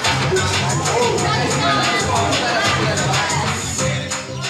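Arrival crowd filling a basketball arena before a season-opening game, a steady dense hubbub of many overlapping voices and shuffling, loud and continuous throughout with a slight fade at the end.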